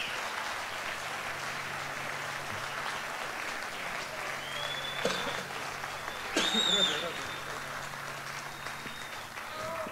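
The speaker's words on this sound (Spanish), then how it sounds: "Un aplauso." Audience applause at a live jazz festival concert in Santiago de Chile, a steady crowd clapping heard somewhat distant, with a brief louder swell partway through.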